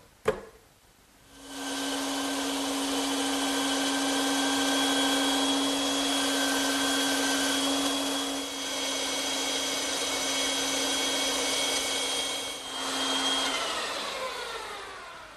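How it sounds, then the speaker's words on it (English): Bandsaw cutting wooden chair arm and foot blanks: the motor spins up with a sharp start, then a steady loud whine with a strong low hum runs for about thirteen seconds, briefly dipping as the blade bites the wood, before winding down. "now I can return to the bandsaw and cut those shapes out"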